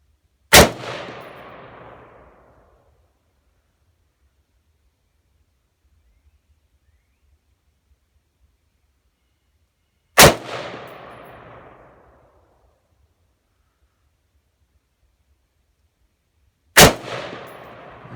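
Three single gunshots from a PSA Magpul AR-15 midlength carbine rifle with an ALG trigger, each a loud sharp crack with a ringing decay, spaced several seconds apart with quiet between them.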